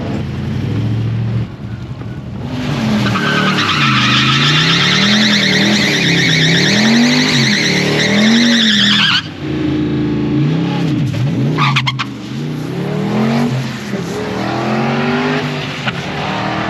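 A Lexus IS200 drag car launches down a drag strip, its engine screaming loudly and revving up and down through gear changes, dropping briefly before pulling hard again, with wind buffeting the microphone.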